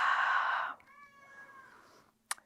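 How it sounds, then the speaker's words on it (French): A cat gives a single drawn-out meow, fairly soft, after a louder rustling noise, followed by a brief sharp click. "qui miaule, que vous avez peut-être entendu."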